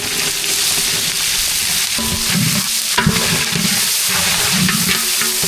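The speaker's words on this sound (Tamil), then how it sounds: "பச்சை மிளகாய் நல்லா பிடிஞ்சிருச்சு வெங்காயம் சேர்த்துக்கலாம்" Onions frying in hot oil for a vegetable biryani, with a steady, loud sizzle and occasional stirring scrapes close by, no voices.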